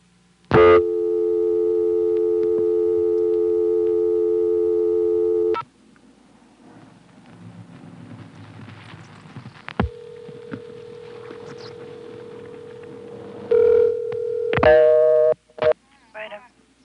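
Fast dial tone from a Stromberg-Carlson ESC telephone exchange holds steadily for about five seconds, followed by quiet line noise, a long single tone, and short tone bursts and clicks of dialing near the end.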